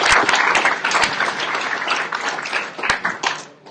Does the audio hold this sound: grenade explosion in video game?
no